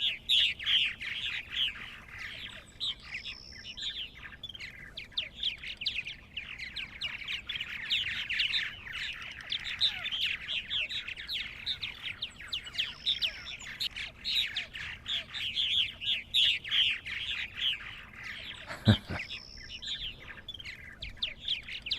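Purple martins at a farm colony chirp and chatter continuously in dense overlapping calls, with occasional louder rising squawks and one sharp knock near the end.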